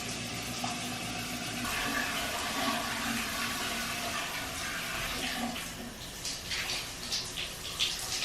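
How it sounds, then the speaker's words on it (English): Shower water pours steadily in a bathroom, a continuous hissing spray that shifts slightly in texture as it runs, with no voices. "I'm gonna go ahead, hop in the shower, cleanse, exfoliate"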